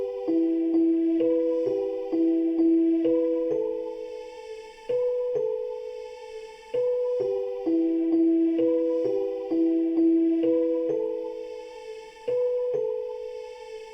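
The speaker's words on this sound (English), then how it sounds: "So these are the bells that I'm talking about, and they're also from Expand." Bell sample from the Expand plugin playing a repeating melodic pattern of bright chiming notes with ringing decays, steady and looping throughout, with no voices.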